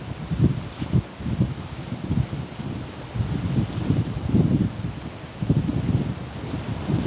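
Gusting wind buffets the microphone in rumbling waves on a seaside cliff in California, loud and continuous with rising and falling surges.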